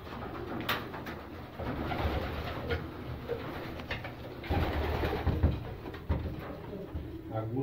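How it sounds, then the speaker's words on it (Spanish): Low, continuous cooing rises from a loft full of racing pigeons raced over 370 miles, with a few sharp knocks and shuffles mixed in and faint voices in the background. "Estas son las palomas"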